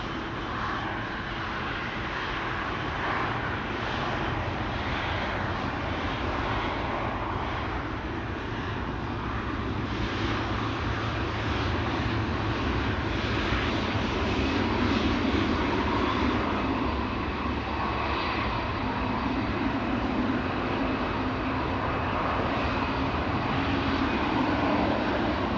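A KLM Boeing 777, registration PH-BVO, roars steadily as it departs Amsterdam Schiphol for Cape Town, its jet engines producing a loud, sustained broadband rumble that holds throughout.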